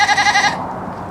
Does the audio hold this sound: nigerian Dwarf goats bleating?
yes